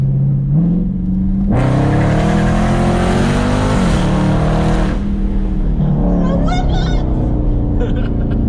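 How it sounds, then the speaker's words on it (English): Dodge Charger Scat Pack accelerating hard, a loud, close engine roar climbing steadily through the revs for several seconds, then easing off into a lower rumble as people talk. "Let's do our last acceleration."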